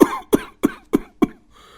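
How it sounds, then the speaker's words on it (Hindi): Five sharp, evenly spaced coughs from a person choking on smoke in a poor family's hut, close and loud, followed by a faint breath. "रात भर खांसी से नींद नहीं आई"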